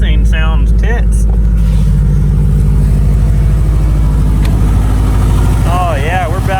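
A car engine idles steadily after start-up on a cold, snowy day, with a constant low rumble and a smooth, even drone that holds for the whole stretch, while voices talk over it intermittently.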